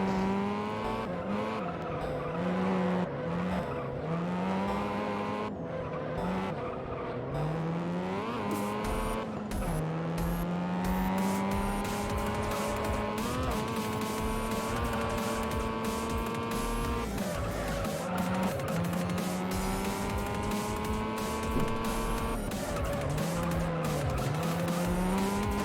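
Mazda RX-7 racing in a video game, its engine droning loud and steady throughout with repeated tire squeals and skids through corners, no talking.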